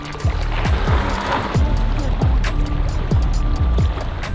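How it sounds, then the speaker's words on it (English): A boat is launched into a lake in the Maine northwoods, with water sloshing and splashing under a run of repeated hollow thumps and knocks against the hull, close and fairly loud. "So let's launch the boat, get after it."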